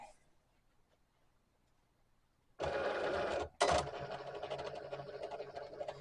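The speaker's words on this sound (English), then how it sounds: "you're going to push load and then the Cricut button" A Cricut Explore Air 2 cutting machine starts up after near silence, a loud steady whirring motor drone that stops briefly and then resumes with a busier mechanical hum as it works over a sticker mat.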